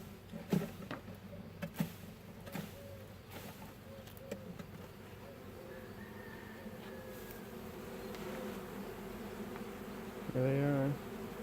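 Honeybee swarm buzzing during a swarm recovery in a hive box with old brood comb, a faint, steady drone under scattered knocks and handling noises, with a brief louder buzz as a bee passes close near the end.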